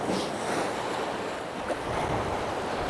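Steady wind and surf wash along a rocky sea shore in cold weather, a continuous loud broadband roar with gusty wind buffeting the microphone and no clear individual wave breaks.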